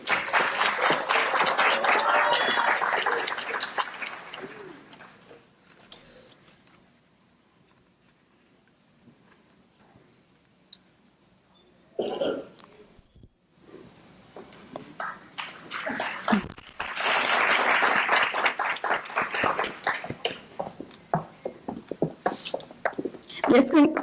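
Audience applause at a university education pinning ceremony, a steady wash of clapping that dies away into quiet, then swells again loudly with scattered individual claps.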